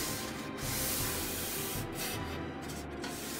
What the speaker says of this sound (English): I'm gonna take my shop towel. That's all I got. And I'm gonna rub all this excess off.